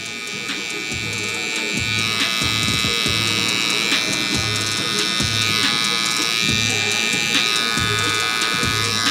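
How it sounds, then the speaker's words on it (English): Electric hair clippers cut hair during a high taper haircut, giving a loud, steady buzz. Short repeated pulses mark each pass of the clippers, and no one speaks. "making sure I brush or comb in between each pass of the clipper"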